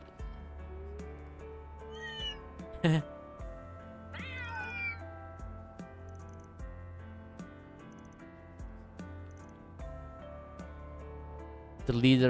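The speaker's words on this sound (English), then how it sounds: "Oh, cat." A cat meowing in the Trails Through Daybreak II video game: a few short, clear meows stand out over soft background music, with people talking intermittently.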